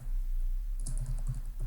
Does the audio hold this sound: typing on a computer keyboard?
yes